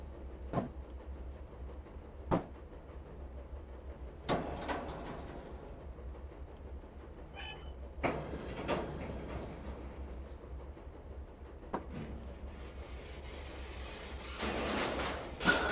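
A Deltic diesel locomotive in a train simulator game works under full throttle, a low steady engine drone and rail rumble beneath intermittent clanks and knocks, growing louder near the end.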